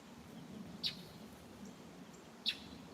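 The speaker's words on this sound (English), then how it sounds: "Mockingbird in your plum tree." A mockingbird in a plum tree gives two short, bright chirps about one and a half seconds apart. They are faint and distant over a steady low outdoor rumble, with no talking.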